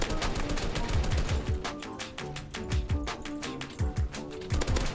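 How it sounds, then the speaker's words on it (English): Rapid automatic fire from a gold AK in a Roblox shooter game, loud bursts of sharp shots repeating in quick rhythmic volleys with brief gaps, no voices. "You deserve to die by gold AK"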